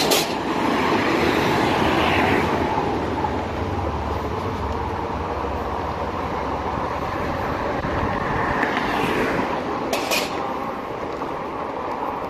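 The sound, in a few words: train passing by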